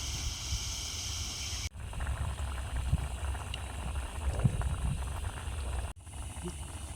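A pot of fish curry with capsicum bubbles on a riverside camping stove, a quiet steady simmering burble with a few soft pops, broken by two brief cuts.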